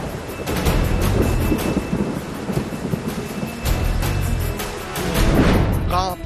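Rain pouring with rumbling thunder, a dramatic news-report sound effect for flooding in Assam; loud, dense and continuous, with heavier bursts of thunder partway through and near the end.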